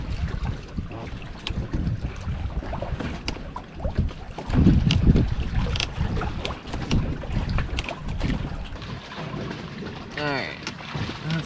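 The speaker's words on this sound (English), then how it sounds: "It was all fun and games until the wind picked up at like 3:30 this morning." Strong wind gusts buffeting a kayak campsite in the early morning, a steady broadband roar with louder surges, and a brief whistling tone near the end.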